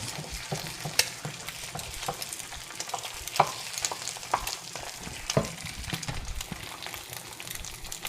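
An egg fries in a mold for a Spam and Egg McMuffin, giving a steady close sizzle with scattered small pops and clicks throughout.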